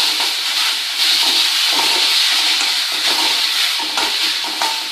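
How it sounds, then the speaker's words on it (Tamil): Ground amla paste sautéing in a hot pan for gooseberry rice, giving a steady close sizzle and hiss with soft stirring scrapes throughout, with no talking. "இப்போ அந்த அரைச்ச மிக்சரை இதில் போடணும் நல்லா வதக்கணும்"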